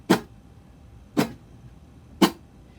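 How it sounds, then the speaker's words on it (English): Three ukulele chucks, percussive muted strums with the strings damped by the strumming hand, land as short, sharp, clap-like hits about a second apart, close and isolated against a quiet background. "Use a chuck to add a percussive clap-like muted strum to any strumming pattern."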